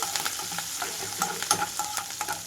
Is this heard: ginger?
yes